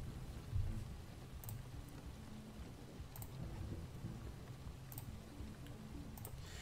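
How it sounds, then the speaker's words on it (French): Steady soft rain hiss with low rumbling underneath, continuous and even throughout, with no voices. "J'adore le bruit de la pluie qui tombe"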